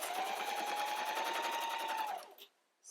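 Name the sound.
sewing machine sewing fabric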